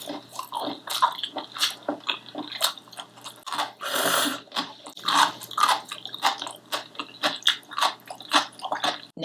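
Someone chews a spicy sea snail (whelk) salad, with repeated moist, squishy bites and chewing close up, steady and fairly loud, no talk.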